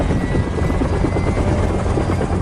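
A helicopter in the 2020 zombie film Alive flies nearby, its rotor producing a loud, continuous throbbing chop with steady intensity and no speech.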